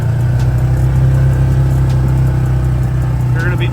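A Hisun Sector 450 UTV engine runs loudly and close in low gear, a steady deep rumbling idle with a slight rise as the gas is tapped, a voice talking over it.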